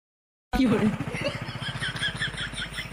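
A motorcycle engine bursts in after a short silence and runs with a loud, fast, regular throbbing pulse close by, holding a steady idle-like beat until the end.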